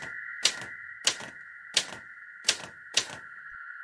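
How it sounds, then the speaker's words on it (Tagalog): A typewriter clacks five times in a slow, even rhythm, each sharp keystroke about half a second apart, set against a steady high tone in a quiet space. "Sa sulok may narinig siyang tunog ng typewriter."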